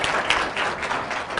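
A college audience at a talk by a local artist during a Hispanic Heritage Month event claps in steady, moderate applause that fills the short stretch without voices.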